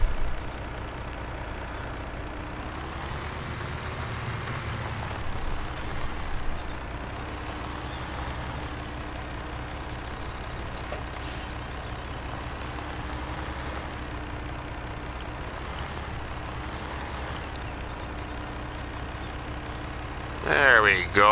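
A tractor engine drones steadily at low revs while reversing a trailer in Farming Simulator 17, a continuous idling rumble with brief swells, and a voice talks over it.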